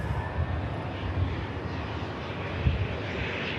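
A Loganair airliner taxis past at Manchester Airport, its engines giving a broad, steady whine and roar at moderate distance, fairly constant with a slight swell partway through.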